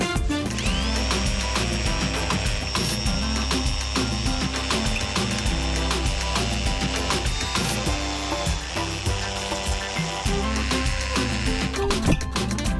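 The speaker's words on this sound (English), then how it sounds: "just drilling a bunch of holes, and we'll see if I can just chip it" A power drill grinds continuously at close range, loud and unbroken, with rattling and scraping as it bores holes into concrete.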